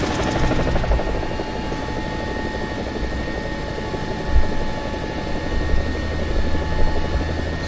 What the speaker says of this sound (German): wir befinden uns hier in einem Hind-Hubschrauber, der Mi-24D